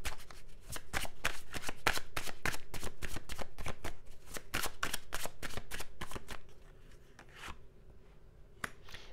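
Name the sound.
shuffling tarot cards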